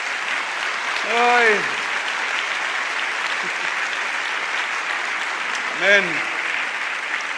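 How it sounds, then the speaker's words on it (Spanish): A church congregation applauds in a continuous broad wash of clapping, with a couple of voices calling out briefly over it. "¿Cuántos locos le dan un aplauso al Señor?"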